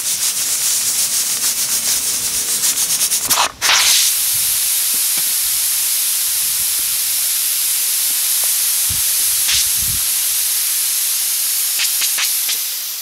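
Steady loud broadband hiss of steam venting from a pressure cooker cooking buffalo skin, continuous and close, with a brief dip and burst near the middle and faint clicks, no talk.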